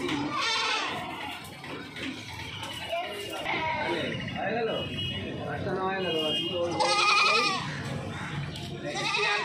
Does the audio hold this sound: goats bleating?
yes